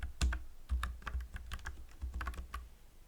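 Password being typed on a computer keyboard, with quick irregular bursts of clicking keys, close and clear, and no voices.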